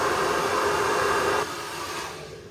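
Hair dryer blows on high heat and high fan speed during a short-hair haircut, a loud steady close whoosh that drops to a softer, lower roar partway through as it moves away.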